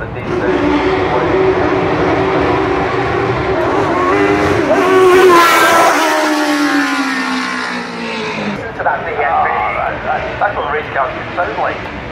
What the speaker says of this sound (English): That's what race cars should sound like.